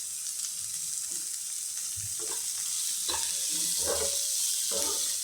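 Onions sautéing with salt in a pan for a puri and potato dish, a steady close hiss of frying with a few scraping stirs at intervals, no talking.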